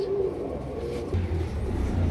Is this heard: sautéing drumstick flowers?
no